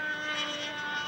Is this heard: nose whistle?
no